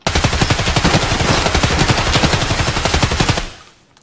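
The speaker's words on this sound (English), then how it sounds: "Oh, I'm getting shot." Loud, close automatic gunfire in a video game, rapid bursts of shots in a dense continuous rattle that cuts off near the end.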